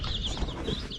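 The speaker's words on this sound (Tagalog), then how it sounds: "Nilabas ko na yung mga napisang sisiw sa incubator ko, mga kanipi" Newly hatched chicks just taken out of an incubator peep continuously at close range, their thin high chirps overlapping in a steady, busy chatter with no talking.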